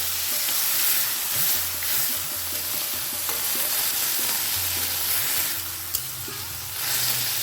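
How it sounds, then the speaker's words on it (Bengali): Tempering spices with potato for sabudana khichuri sizzle loudly in a pan after a splash of water, a constant close hiss with stirring scrapes and a brief clatter. "সামান্য একটুখানি জল অ্যাড করবো যাতে ফোড়নটা পুড়ে না যায়"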